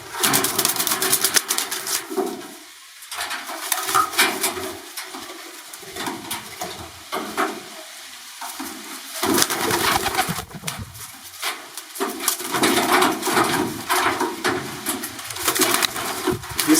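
Racing pigeons cooing in a loft, soft repeated throaty coos close by with rustling and scraping noises between calls, no talk.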